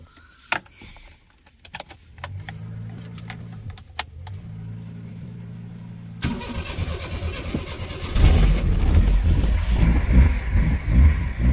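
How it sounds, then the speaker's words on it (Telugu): Keys jangle briefly, then a Maruti 800 engine cranks and catches, settling into a loud, rough running rumble. "బండి అయితే స్టార్ట్ అయిపోయింది."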